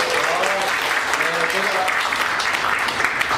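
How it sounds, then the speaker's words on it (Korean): An audience at a year-end sacred music concert applauds, with continuous clapping mixed with voices and tonal sounds, steady and fairly loud throughout. "내 주의 뜻대로 박수 한번 보내주세요"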